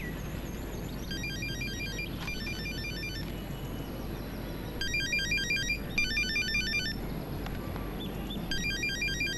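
A home telephone rings with an incoming call from abroad, sounding repeated electronic warbling trill bursts in a regular on-off pattern over a steady low background hum, moderately loud and without speech.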